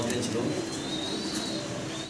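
A pair of large red Lahori fancy pigeons coo softly and repeatedly at close range, with the low rolling calls partly under nearby talk.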